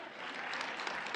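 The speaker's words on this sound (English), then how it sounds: "Thanks for the clap." An audience claps for a speaker sharing a personal story, a dense, steady burst of many hands at moderate distance, brief and continuous.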